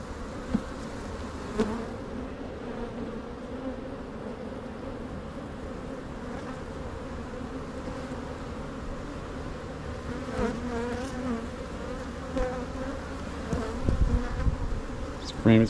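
Honey bees buzz steadily around the hive frames, a dense swarm drone that stays close and even, with a few louder passes and handling bumps and no speech.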